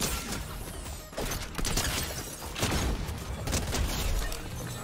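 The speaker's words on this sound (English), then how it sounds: "Nothing like a good old charge SMG." Rapid charge SMG gunfire in a video game, a dense steady fusillade of shots running nearly throughout, loud and close with no talk.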